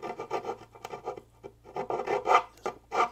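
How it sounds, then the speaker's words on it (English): A round file rasps against the jigsaw-cut edge of a wooden potting bench board in short, uneven strokes, close and fairly loud with brief pauses between passes. "Just take that round file."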